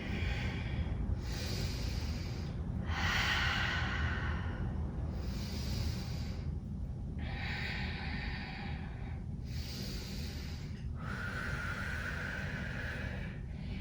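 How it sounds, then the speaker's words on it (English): Slow, deep yoga breaths drawn in and out through the nose during a vinyasa flow, about six long breathy swells with short gaps between them, close and steady with no talking. "Three breaths here."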